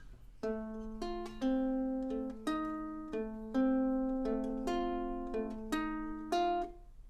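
Plucked ukulele notes played fingerstyle in a short bluesy phrase, a few clear attacks ringing out with pauses between, close and fairly quiet.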